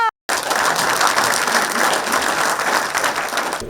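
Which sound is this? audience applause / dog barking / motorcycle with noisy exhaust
audience applause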